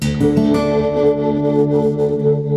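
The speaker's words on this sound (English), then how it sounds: "if we have it too loud, you'll notice we start to get distortion" A strummed acoustic guitar rings out with a harsh, clipped, distorted edge, overdriven by too much level, sustaining for a couple of seconds.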